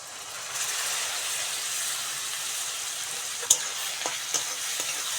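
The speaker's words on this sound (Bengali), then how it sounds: "মশলার সঙ্গে চিংড়ি মাছটা ভালো করে ভেজে নেব।" Prawns fry in hot oil with turmeric and chili powder for a Bengali dal, a dense, hissing sizzle that swells after a quiet start, with a few sharp utensil taps toward the end.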